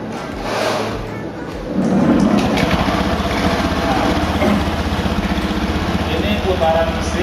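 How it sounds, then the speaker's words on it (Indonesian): A motorcycle with a CVT transmission starts up and settles into a steady running rumble, the engine loud and close with a slight rise after the first two seconds, while someone talks over it. "kalau mesin kita nyalakan"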